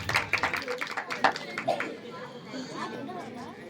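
An audience at a Ramlila committee prize-distribution ceremony claps in a burst of dense applause that fades into crowd chatter and voices.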